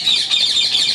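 Ringneck parrots in a breeding aviary chirping, a rapid run of bright, high tweets repeating in quick succession, fairly close and without talk.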